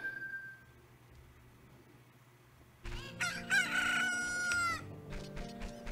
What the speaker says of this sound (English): the sound of the chicken is a lovely omen of what we must do next